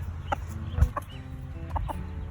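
A hen clucks close by in a series of short, choppy calls, some louder than others, with brief pauses between them.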